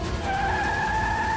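A car skids hard during a chase, producing a loud, steady tire squeal with sustained high tones that holds unbroken for over a second.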